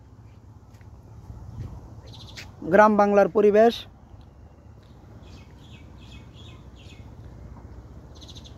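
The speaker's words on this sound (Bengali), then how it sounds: "পাখিদের কিচিমিচি ডাক শোনা যাচ্ছে।" Small birds chirp faintly and intermittently in the rural Bengal countryside near a little village bridge, with a short stretch of someone talking in the middle.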